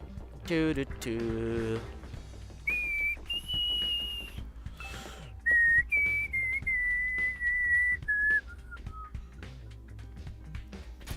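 A person whistles a wavering, sliding melody in several short phrases, fairly close and clear, with brief vocal sounds and other noises between the phrases.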